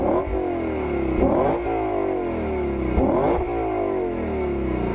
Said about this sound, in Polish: Ogromny 5-litrowy silnik lekko trzęsie całym nadwoziem